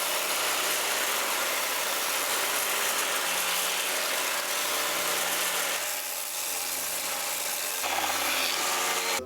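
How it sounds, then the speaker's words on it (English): A belt sander grinds steadily against wooden porch swing parts, a dense continuous abrasive whir with a slight shift in tone as pressure changes, loud and close with no voices. "I'm going to use the belt sander, and it's going to work probably faster but less accurate"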